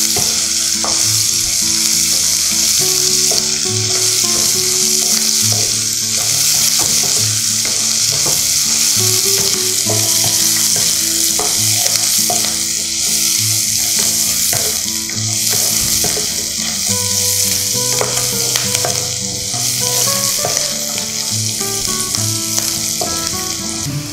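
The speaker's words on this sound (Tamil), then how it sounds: "அது கொஞ்சம் வதக்கணும் லைட்டாக." Chopped onions sizzle and fry steadily in oil in a pan, sautéed for a Tamil-style vegetable pulao; a loud, continuous crackle with occasional stirring scrapes, no voices.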